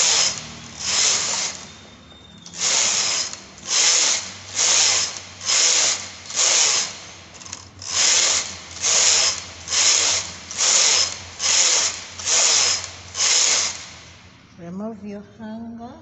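A knitting machine carriage is pushed back and forth across the needle bed for a turtleneck sweater, making a regular series of loud rasping passes, one row after another, each about a second long with short pauses between.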